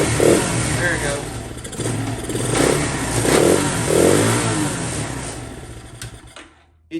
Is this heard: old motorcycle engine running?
yes